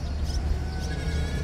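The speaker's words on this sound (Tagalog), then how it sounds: "Yung mga kambing." Goats bleat briefly by a river near Puntod Bridge, a couple of short wavering cries over a steady low outdoor rumble of water and ambience.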